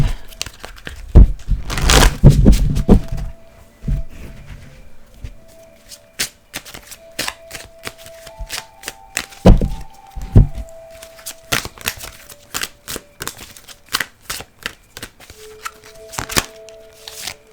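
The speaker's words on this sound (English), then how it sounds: "Let's just shuffle these up." Close, crisp riffling and flicking of a tarot card deck being shuffled, a dense burst early on followed by scattered snaps and slides, with a faint hum in the background.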